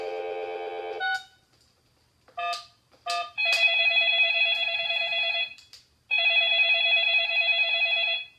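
A toy telephone beeps through a short run of dial tones, then rings with a loud electronic trill in two long bursts separated by a brief pause, close and clear with no talking.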